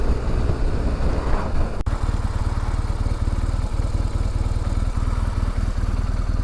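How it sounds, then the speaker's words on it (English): A car engine making an odd noise idles with a steady, low rhythmic knock and clatter after a brief louder burst, running continuously at close range. "There was a funny sound coming from my engine"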